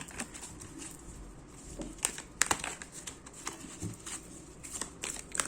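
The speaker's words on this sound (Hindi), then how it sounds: "मैं फिर से इनको शफल करना चाहूंगी।" Tarot cards being shuffled by hand, with soft irregular riffles, flicks and papery pats spread across several seconds, quiet and close with faint room background.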